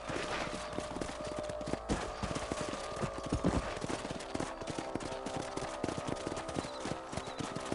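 Horse hooves clip-clop steadily in the Western video game Red Dead Redemption, a continuous trotting rhythm at moderate level over a dense game soundscape.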